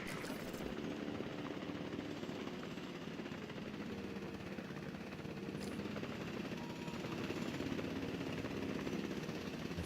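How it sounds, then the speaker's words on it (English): A rescue helicopter in the video game Jurassic World Evolution 2 hovers with a constant low rotor drone and engine hum, steady and faint, with no voices over it. "I need a helicopter."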